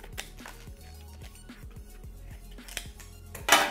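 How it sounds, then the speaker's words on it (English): Scissors snipping the label off a bobby pin card, with a few light snips and crinkles close by over low background music and a louder crinkle at the end. "So we're just gonna cut off the name."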